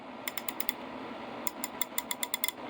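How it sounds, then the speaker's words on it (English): An old USA-made Mac coarse-tooth pear-head ratchet clicking, two runs of crisp, close metallic clicks, a short burst of about five and then a longer string of roughly ten, over faint room hiss. "This is a VR 17K, USA made, old school style pair head"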